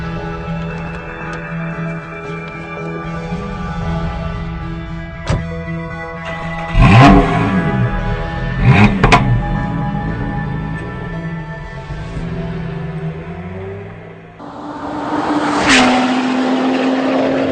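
A Lotus Exige S laps the Hethel test track. Its engine drones steadily, then revs hard through several sharp bursts and shifts, and after a brief dip it climbs again into a loud, sustained pull.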